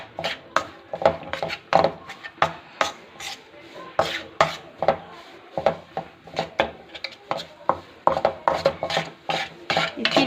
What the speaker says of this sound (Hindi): घी का हमने और डाला है। इसको हम अच्छे से भून लेंगे।